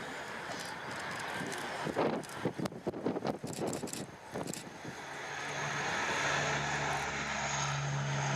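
A German Armed Forces military transport aircraft departs at the ILA 2016 air show with its propeller engines droning loudly, a sustained roar under gusting wind that settles into a steady hum as it moves off.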